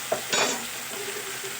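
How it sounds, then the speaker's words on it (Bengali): Ground turmeric and Kashmiri chilli powder sizzle in a pan for a fish curry as a spoon stirs them, a steady close frying hiss broken by a few scraping strokes. "দিয়ে আমি খুব ভালো করে নাড়াচাড়া করে নেব"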